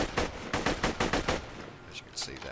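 A Hot Kitten assault rifle fires in Borderlands 2 in a rapid burst of about eight loud, evenly spaced shots, followed by a few scattered impact sounds while someone speaks briefly over the end.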